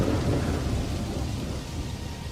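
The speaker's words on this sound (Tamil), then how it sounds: "வெளியே வேகமா காத்தடிச்சு மழை பெய்யவும் ஆரம்பிக்குது." Wind-driven rain pours down in a cartoon storm, a steady dense roar of downpour and low rumble that holds loud and close throughout with no voices.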